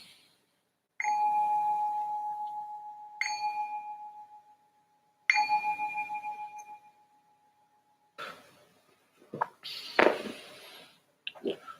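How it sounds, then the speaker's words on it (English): A meditation bell struck three times, each ring a clear sustained tone that slowly fades, loud and close in a quiet room, followed by faint rustling and brief talk. "I'll just ring this bell to signal the start of the meditation."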